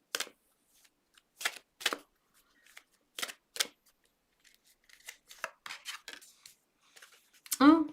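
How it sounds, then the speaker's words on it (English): Cards being shuffled and drawn from an oracle deck, a series of short crisp riffling and snapping bursts with pauses between them, close and quiet, and a voice briefly at the end. "I'll pull one oracle card"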